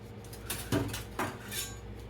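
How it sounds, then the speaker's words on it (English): Metal kitchen utensils clinking and clattering as a ladle is pulled out while making tomatillo salsa: a few quick, close rattles and clanks, fairly quiet, with no talking. "And I'm going to get a ladle."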